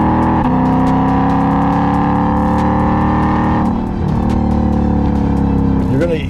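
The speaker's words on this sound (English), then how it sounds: "If you don't love an American supercharged V8, you probably shouldn't be watching my show." Supercharged V8 of a Shelby Mustang GT500 running loud and close, a steady deep rumble and whine holding for several seconds, dipping briefly near the end before picking up again.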